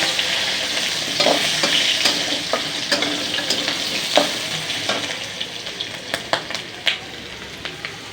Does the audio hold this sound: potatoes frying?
yes